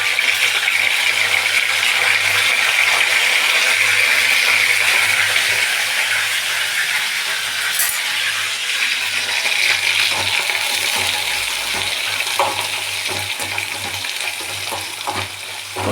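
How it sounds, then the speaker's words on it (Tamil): Dried anchovies fry in a pan with curry leaves and oil, giving a loud, steady sizzle with occasional clinks of a stirring utensil, close up throughout. "இப்போ நல்லா க்ளீன் பண்ணி வச்சுருக்க நெத்திலியை அது கூட சேர்த்துக்கலாம்."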